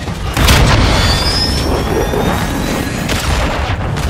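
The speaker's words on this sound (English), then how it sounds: "Friendly missile inbound." A missile strike explosion in Call of Duty: Modern Warfare II multiplayer, a loud close boom that swells into a long rumbling roar with a jet-like whine over it, then a second surge near the end.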